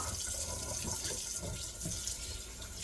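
Tap water runs steadily into a kitchen sink as food is rinsed beneath it, a close, continuous splashing rush lasting the whole moment with no one speaking.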